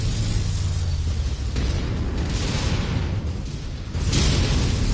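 Explosion in MechWarrior 5: Mercenaries, a heavy rumbling boom with sustained crackling debris and low roar that swells again near the end, loud and continuous without speech.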